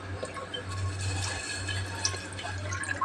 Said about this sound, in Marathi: तर चला आपण टाकूया दूध.